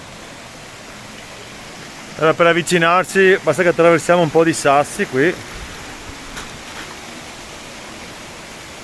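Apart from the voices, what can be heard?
waterfall, Cascata del Bognon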